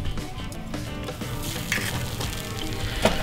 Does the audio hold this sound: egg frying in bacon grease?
yes